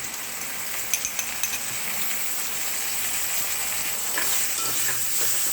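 Ginger-garlic paste sizzles steadily in hot oil for a mutton curry, a close, continuous frying hiss with a few light clinks of stirring near the start.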